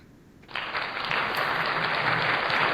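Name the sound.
clapping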